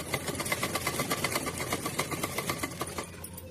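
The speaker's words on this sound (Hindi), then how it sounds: "फिर से हम इसको सीधा सिल के लाते हैं।" Sewing machine running steadily at close range while stitching fabric for a small doll dress, with a fast, even needle rhythm that slows and fades near the end.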